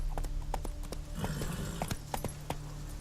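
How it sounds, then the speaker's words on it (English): Horse hooves clip-clopping in the video game The Witcher 3 Wild Hunt, a run of fairly faint, uneven hoof beats over a steady background hum of game ambience. "Whoa there, Roach"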